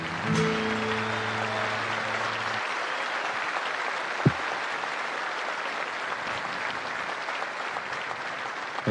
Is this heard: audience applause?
yes